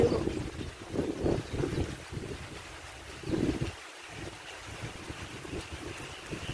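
Wind gusting and rushing on a rainy morning in the Lao countryside, a steady broadband roar with swelling gusts and low buffeting against the microphone, close and fairly loud throughout.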